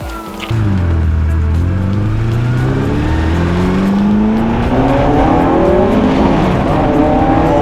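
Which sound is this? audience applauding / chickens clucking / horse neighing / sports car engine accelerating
sports car engine accelerating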